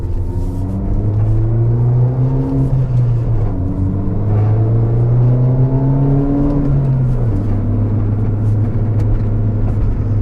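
A Pepper White R56 MINI Cooper S engine drones steadily from inside the cabin while driving, its pitch rising and falling through gear changes with a loud, continuous rumble and no talking.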